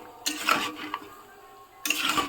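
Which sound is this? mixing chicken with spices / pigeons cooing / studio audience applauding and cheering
mixing chicken with spices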